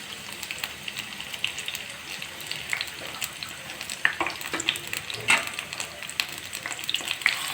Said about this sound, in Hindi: हल्का सा बस इसको फ्राई करना है